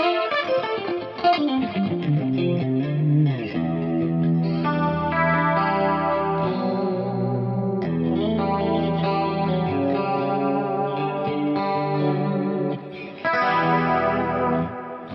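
Electric guitar chords and notes through a Line 6 HX FX ring out with chorus and a big, washy ambient reverb, sustained and layered, with no voices.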